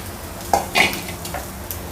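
Capsicum and potatoes get sautéed in a pan: a brief low sizzle broken by a couple of sharp metallic spatula scrapes and knocks, short and close, with no speech.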